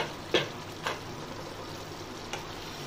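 Paneer rezala simmers in a covered pot, giving a soft steady bubbling hiss with a few sharp ticks or lid clicks, close and fairly quiet, with no one talking.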